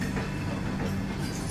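The Tejas Express, India's first private train, passes by as a steady, close, broadband rumble of rolling rail cars with no distinct clacks, lasting the whole brief moment.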